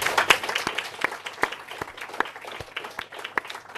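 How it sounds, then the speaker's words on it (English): An audience claps for the delegates at a Girls 20 summit, a thinner spread of individual hands with distinct sharp claps and an uneven rhythm, close and moderately loud. "So a big round of applause for our delegates."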